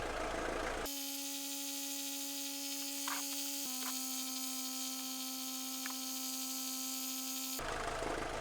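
An engine idles with a steady tonal hum whose pitch drops slightly partway through, running alone at an even, moderate level with no talking.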